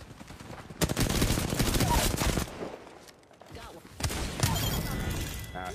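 Bursts of automatic gunfire and rapid shots in an online shooter game, loud and sustained in two stretches separated by a short lull, with players talking over it.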